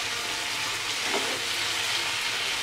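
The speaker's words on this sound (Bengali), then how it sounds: "ফুলকপিটাকে গ্রেভির সঙ্গে সুন্দরভাবে মিশিয়ে নেব।" Cauliflower stirred into simmering gravy in a frying pan gives a steady, close sizzle with a soft scrape partway through, without any voices.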